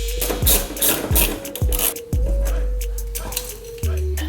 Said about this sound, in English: let's go down here and unscrew that bracket